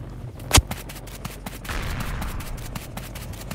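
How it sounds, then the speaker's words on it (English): Egg launcher in the game Mad City firing an explosive egg, one sharp loud blast early on followed by a rumbling burst of noise and faint clicking. "let me turn on the volume so you guys can hear the explosive eggs"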